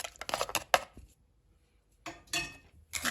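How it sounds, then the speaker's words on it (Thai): Blanched squid salad is pounded in a mortar, giving a quick run of close knocking strikes, a pause of near silence, then more pestle thuds and scrapes; no speech. "วันนี้ก็ตียำหมึกลวกในครกนะคะ"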